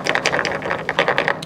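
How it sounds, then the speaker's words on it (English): Tip switch rattling inside a portable bed bug heater as the unit is moved around, a quick series of small metallic clicks and rattles, close and steady over a second and a half. "What you're hearing is the tip switch."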